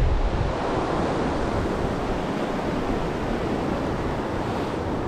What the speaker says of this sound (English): There it is right there. Dartmouth Rapids.